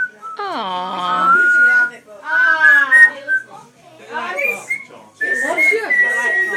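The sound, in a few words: grey parrot whistling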